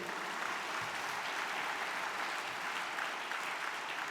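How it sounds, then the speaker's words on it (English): Newly qualified chartered accountants and their audience at a convocation ceremony clap in a dense, steady burst of applause heard throughout the whole short stretch. "please give a big round of applause for yourself"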